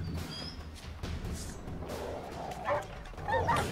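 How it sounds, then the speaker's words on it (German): Dogs in the video game The Witcher 3 bark and yip while attacking, short bursts rising over a busy game background with thuds, loudest near the end. "Warum greift die Hunde mich an und nicht ihn?"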